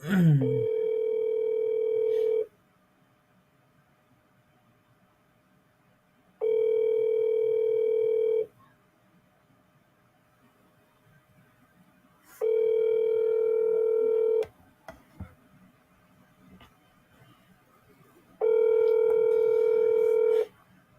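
Telephone dial tone sounding in four steady, evenly spaced bursts of about two seconds each, with a few quick keypad dialing beeps between them, clear and close against a quiet background.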